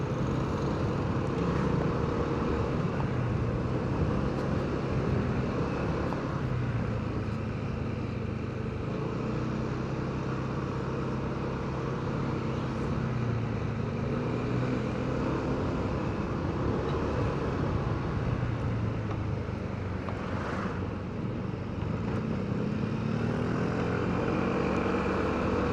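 A Honda PCX 160 scooter engine drones steadily during a test ride through a town, a continuous mid-pitched hum mixed with road and wind noise, with no talking.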